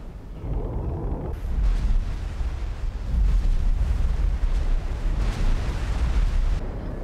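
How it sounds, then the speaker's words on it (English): Capital ship broadsides fire in a Star Wars mod of the space game X4, a dense continuous barrage of deep booming blasts and rumbling explosions that roll on loudly without pause. "Spear, keep dropping those broadsides"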